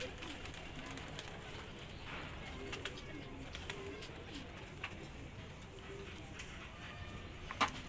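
Pigeons kept by a breeder cooing faintly amid a busy outdoor ambience, soft low calls under scattered clicks and rustling noise, with a voice heard briefly.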